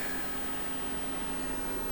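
An air conditioning system and the auxiliary front cooling fan run in the open engine bay of a 2003 Audi RS6 Avant, giving a steady, faint, even whir with a slight tonal hum and no variation.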